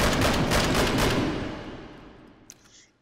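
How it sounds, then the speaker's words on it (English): An SVT-40 rifle fires a fast string of loud, sharp shots at a target in the H3VR game, blending into a dense roar that fades away, followed by a single faint click. "Let's shoot 10 rounds into the target."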